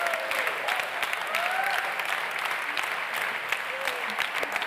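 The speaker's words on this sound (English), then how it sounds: "would you please give a warm round of applause for the skills section for Digital Talent Program, Fundación ONCE" Steady audience applause fills a gala hall for European Social Economy Awards winners, a dense, even wash of clapping with a voice speaking faintly over it.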